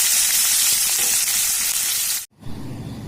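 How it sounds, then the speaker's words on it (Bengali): Diced onions frying in a pan, a loud, close, dense sizzle that cuts off abruptly, then returns as a quieter crackle. "এবার দিয়ে দিচ্ছি ডুমো ডুমো করে কেটে নেওয়া পেঁয়াজ। পেঁয়াজটা দিয়ে একটু ভাজা ভাজা করে নেব।"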